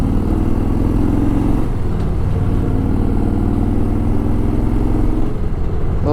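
Motorcycle engine drones under load while riding on a highway near the Hosur checkpost in sixth gear at about 90, a loud steady mid-pitched hum with wind rush and slight changes in engine note.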